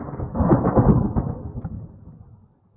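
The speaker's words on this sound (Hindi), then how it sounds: "भारी बारिश की उस रात" A loud, close roll of thunder rumbles over heavy rain on a dark night in a deserted forest, then fades away into silence over the final moments.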